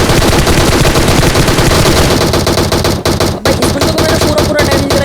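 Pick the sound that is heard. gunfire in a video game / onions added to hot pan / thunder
gunfire in a video game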